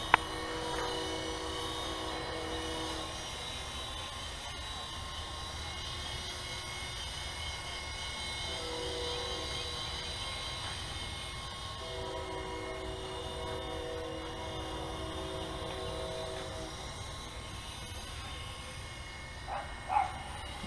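A Syma F1 Armor FP toy RC helicopter flies nearby, its small electric motor and rotors giving a continuous high whine that rises and dips in pitch as it maneuvers, with a couple of faint knocks near the end.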